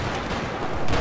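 Desert Eagle pistol fire in a Battlefield 4 match, loud dense bursts of gunshots packed together over a second with no talk.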